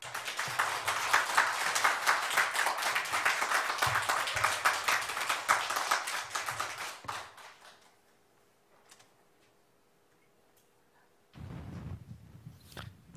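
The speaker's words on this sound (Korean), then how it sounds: "큰 박수로 모시겠습니다" A church congregation at a Sunday service claps to welcome a performer to give testimony and play music. Dense, steady applause fills the first seven seconds, then fades into near silence before a low rumble of movement.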